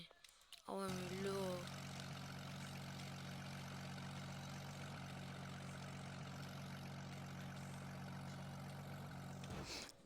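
A continuous airplane engine drone in a video game, from a player-built plane meant to be the fastest in the world, runs loud and steady after a brief voice sound at the start.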